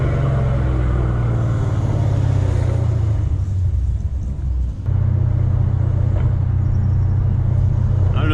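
Dodge Challenger ScatPack fitted with long tube headers rumbles loudly and steadily from inside the car, with a dip in the middle before the deep exhaust drone returns; any pops are not clearly separated.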